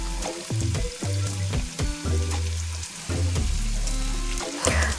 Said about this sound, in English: I like to saute my seasonings.